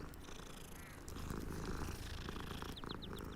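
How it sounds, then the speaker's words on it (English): A cat in Hogwarts Legacy purrs while being petted, a low, steady rumbling purr that swells slightly louder partway through, close and continuous, with small chirpy tones near the end. "We always gotta pet the cat."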